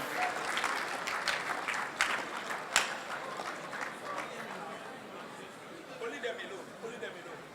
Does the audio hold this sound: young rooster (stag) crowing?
no